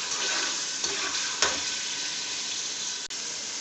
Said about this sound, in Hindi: लहसुन अदरक को हल्का सा भून लेते हैं हम।